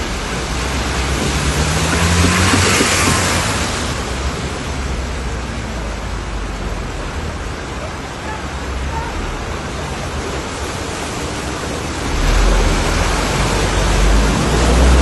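Floodwater rushes through Samarkand streets after heavy rain and a mudflow, a loud continuous roar of churning water that surges and eases, heard close with no voices.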